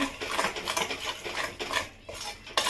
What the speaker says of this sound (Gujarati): ગોળ ઓગળી જાય પછી આને હલાવવાનું